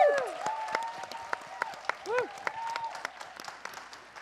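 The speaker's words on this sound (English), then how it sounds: "Round of applause, please." A small audience at a philanthropy conference gives scattered, uneven claps, individual hand claps standing out rather than blending, while voices carry over them.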